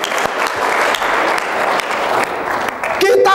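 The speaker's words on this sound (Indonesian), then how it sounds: "Beri tepuk tangan yang meriah begitu." Loud, sustained applause from a church congregation fills the space, with a brief voice or tone surfacing at the very end.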